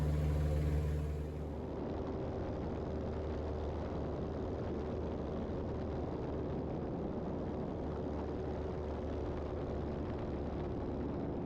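A Bearhawk LSA light aircraft engine drones steadily at full power during a climb, a constant loud low hum with a propeller roar filling the whole stretch without pause.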